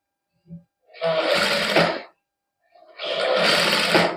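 Sewing machine stitching a fabric strip onto the neckline of a plain matching suit, two steady runs of rapid motor whirring separated by a pause, close and loud with a few small clicks before.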